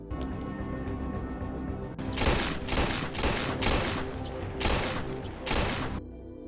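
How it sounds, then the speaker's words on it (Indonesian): A man practises shooting in an action film, firing a run of about eight sharp gunshots in irregular succession, loud and echoing over a low ambient bed. "Setelah itu James pergi ke tempat sepi untuk melatih tembakannya."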